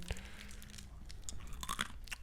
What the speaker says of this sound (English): No, you got to hear the crunch, man. Those are like animal crackers.